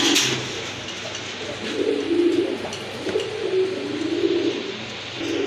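Pigeons coo steadily in soft, low, throaty murmurs that overlap and repeat, close by against a faint hiss of background noise.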